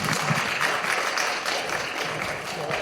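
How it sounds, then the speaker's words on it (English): Crowd applause fills the room at the opening address of a conference, a dense steady clapping that holds throughout with no break. "Can we give a round of applause for the amazing David?"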